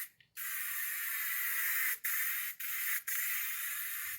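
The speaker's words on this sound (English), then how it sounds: "You spray this on just like you're painting." Spray-on bed liner coating being sprayed onto bare wood in a heavy coat, a loud steady hiss in long bursts broken by three brief pauses.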